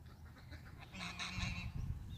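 Geese honk in a brief noisy cluster over steady outdoor background noise, several calls overlapping at moderate distance.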